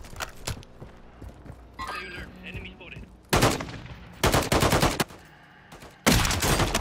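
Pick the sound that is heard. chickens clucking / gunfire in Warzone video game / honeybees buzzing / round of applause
gunfire in Warzone video game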